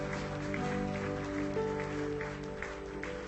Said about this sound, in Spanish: Denle un fuerte aplauso a Dios,